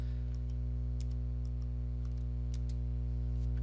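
A computer keyboard is tapped in a handful of light, scattered clicks, faint against a steady electrical hum.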